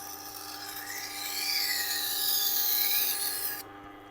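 A Global kitchen knife is passed over a resin-bonded diamond wheel, giving a continuous close hiss and rasp that swells in the middle and cuts off abruptly near the end.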